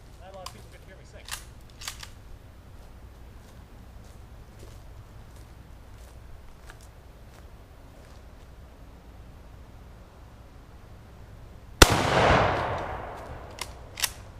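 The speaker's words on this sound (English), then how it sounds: "Oh, I shot it through the bottom, just like I said." A rifle fires a single sharp, loud shot at an air compressor target in a backyard, preceded by quiet ambience with scattered faint ticks and clicks, and followed by a short echoing tail and a later small click.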